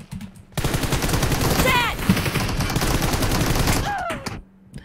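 Bursts of rapid automatic gunfire crackle in a PUBG Mobile match, with a few distinct whizzing shots through the fast repeated firing before it stops abruptly.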